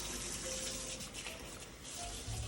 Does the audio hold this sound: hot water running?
yes